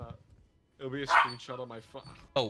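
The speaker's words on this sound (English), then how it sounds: "Oh wow, that's a dog." A dog gives a brief bark amid a person talking during an online game session, the yelp short and mixed into the speech.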